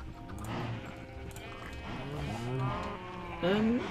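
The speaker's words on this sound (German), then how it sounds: "Dann sind die Kühe dran." Cows in Minecraft moo in several low, drawn-out calls that overlap at moderate distance, and a louder, nearer moo comes near the end over quiet ambient background.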